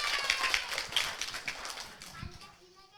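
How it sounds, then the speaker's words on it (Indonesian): Young children at a kindergarten performance clap in quick, uneven bursts that thin out and fade toward the end, while voices mingle with the claps. "Tepuk tangan."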